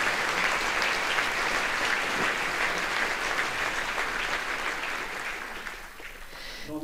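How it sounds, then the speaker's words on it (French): Sustained applause from a large audience at a liberal institute's award ceremony in Zurich, a thick, even roar of clapping that holds steady for several seconds before easing slightly near the end. "qui mérite un tonnerre d'applaudissements"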